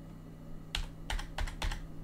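Typing on a computer keyboard: four quick bursts of key clicks, close and quiet, with no one talking.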